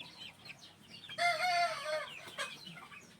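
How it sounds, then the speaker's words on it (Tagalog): A young cockerel crows once, a strained, rising-and-falling call over quiet background, followed by a faint short cluck. "Habang nagvi-video ako ay may naririnig akong turaok ng turaok na cockerel."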